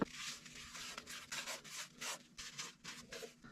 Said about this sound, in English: So I'll be buffing it with this Yorkshire grit. I have this little pad attached to my drill.